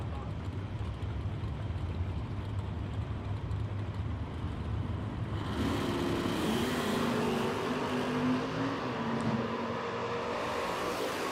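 A 1967 Camaro drag racing at a Summit Super Pro event, with engine noise that jumps midway into a loud, rising roar over a steady broadband rumble, heard from a distance over an announcer talking.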